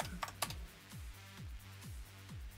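Computer keyboard keys, including enter and space, pressed in a quiet room: about six evenly spaced, fairly soft clicks in a steady rhythm with no voices.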